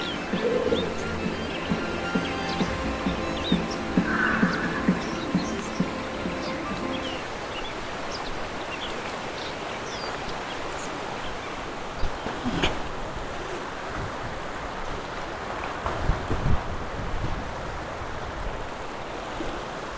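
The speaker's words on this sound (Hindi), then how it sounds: "अभी आप मेरे पीछे जोगनी वाटरफॉल देख सकते हैं।" Water from Jogini waterfall near Manali rushes in a steady, broad roar heard from a distance outdoors, with a few faint background voices and occasional bumps.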